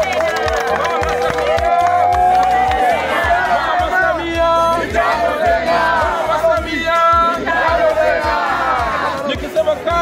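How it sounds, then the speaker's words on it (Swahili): A dense political-rally crowd claps and cheers continuously, loud and close, with rhythmic hand claps and shouts over a pounding background beat. "Tumpigie makofi sana Daktari Samia."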